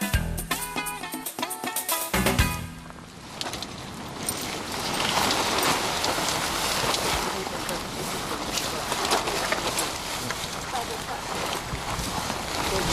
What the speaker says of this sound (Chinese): 直到雨水再度打在帐篷上